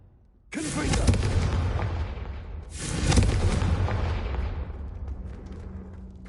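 Confringo spell blasts in Hogwarts Legacy: two loud, sustained roaring fire explosions a few seconds apart, each bursting suddenly then rumbling and fading out slowly.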